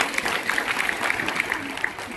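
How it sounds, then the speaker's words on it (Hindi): An audience at a program in Kondagaon, India claps together in a brief burst of applause, with a few louder individual claps rising above the crowd. "आप सबके लिए मैं एक बार जोरदार ताली चाहता हूँ।"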